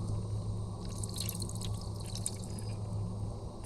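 Cleaning fluid sloshing and dripping inside a BMW M54 engine during a head gasket rebuild, a close, steady wet trickle over a low background hum.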